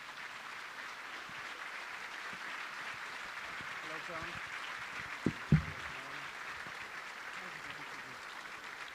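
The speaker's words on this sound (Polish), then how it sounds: "Powitajcie go brawami specjalnie dla Państwa." An evening audience applauds to welcome a guest speaker, a mountaineer, with a faint, steady patter of clapping from a distance. A few brief voices and knocks briefly stand out midway.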